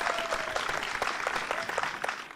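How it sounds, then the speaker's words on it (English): Studio audience applause at a health talk show, steady dense clapping at moderate level that holds evenly throughout, with no voices over it. "A round of applause,"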